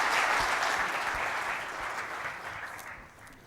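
An audience at a talk applauds in a steady, full wash of clapping that starts loud and slowly fades over a few seconds.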